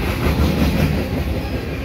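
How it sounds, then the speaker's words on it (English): A heavy CN Canpotex unit train of 200-plus potash cars rumbles past at Dorval, a loud, steady, close roar of rolling wheels and cars with clickety-clack running through it. "And this is like a 200 car plus train"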